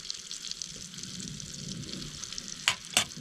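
Eggs frying in a pan at a solo camping cabin in the wilderness give a steady, close sizzling hiss throughout, with two short sharp clatters near the end.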